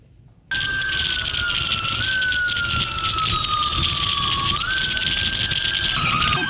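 A Red Cross ambulance siren wails loudly and up close in traffic while carrying an injured child, its wavering tone cutting in abruptly over a constant roar of road noise.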